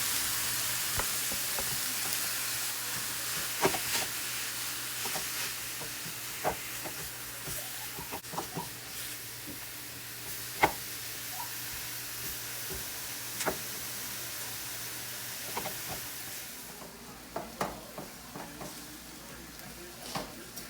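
Shallots and garlic stir-fried in a little oil, giving a steady soft sizzle with scattered scrapes and clinks of a spatula against the pan, fairly close and moderately quiet, with no talking.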